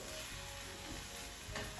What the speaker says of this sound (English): I'm waiting for the brown rice from boiling water to come back up to the boil